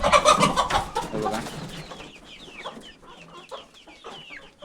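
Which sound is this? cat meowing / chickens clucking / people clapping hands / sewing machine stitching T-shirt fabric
chickens clucking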